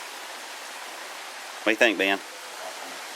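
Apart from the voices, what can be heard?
stream of water flowing on a hiking trail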